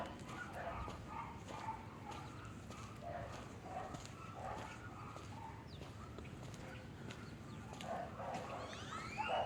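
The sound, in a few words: dog barking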